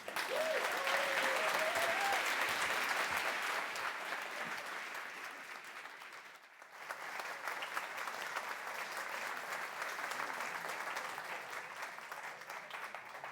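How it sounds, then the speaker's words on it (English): An audience applauds after a closing plenary talk, with sustained dense clapping that dips briefly midway and then continues; a voice speaks faintly at the start. "Can we give a round of applause to Naomi Martin as she comes?"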